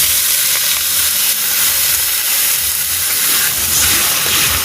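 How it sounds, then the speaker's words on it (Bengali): Water poured into a hot pan of fried rice sends up a loud, sustained steam hiss and sizzle that stays close and continuous, with no talk over it. "আমি এবার জল দিয়ে দেব।"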